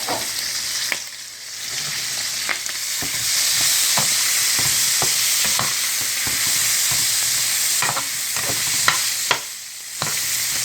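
Onion with red and green peppers frying in a pan, a steady loud sizzle with scattered sharp clicks and scrapes of a utensil stirring throughout.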